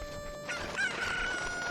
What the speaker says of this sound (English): I'm gonna go ahead and gather all of the chickens to see what prize I get from doing that.